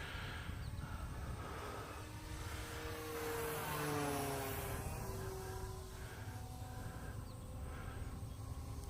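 RC airplane motor at under half throttle, a steady buzzing whine that swells as the plane passes near and fades as it moves away, faint and distant through wind noise.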